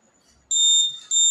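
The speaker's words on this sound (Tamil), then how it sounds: "இப்போ நான் மறுபடியும் ஓட்டு போட வரும்போது அலாரம் அடிக்கும் தானே" A voting machine's alarm goes off for a repeated fake vote, a loud, shrill electronic beep that starts abruptly, holds steady, breaks briefly and resumes.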